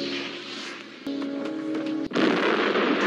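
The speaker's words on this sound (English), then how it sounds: "It's a fucking big explosion." A big explosion in the 1982 film The Thing: a sudden broadband blast cuts in after a tonal hum and abrupt thud, then a loud sustained roaring rumble to the end.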